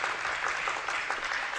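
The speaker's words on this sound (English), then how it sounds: "I'm sure we'll get a big cheer from the crowd" Crowd at a women's pistol shooting final at the 2024 European Championships in Osijek breaks into steady applause and cheering, a dense, continuous wash of clapping filling the space.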